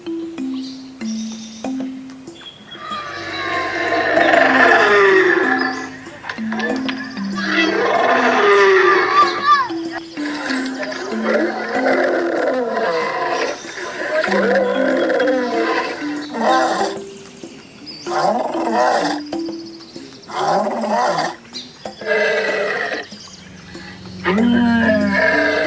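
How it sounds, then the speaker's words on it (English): A lion roars in a children's wild-animal sound collection, with deep growling bursts spread across the clip over a steady tonal music bed. "Lion."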